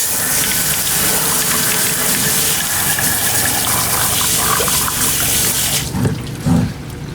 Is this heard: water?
yes